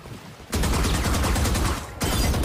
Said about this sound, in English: I want to see how many bullets it takes to break it.